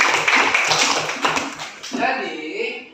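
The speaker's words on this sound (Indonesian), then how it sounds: "Kasih tepuk tangan dulu." A classroom of students claps for a classmate, a quick flurry of close, uneven hand claps for about two seconds before a voice takes over.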